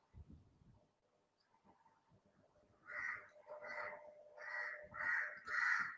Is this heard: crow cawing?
yes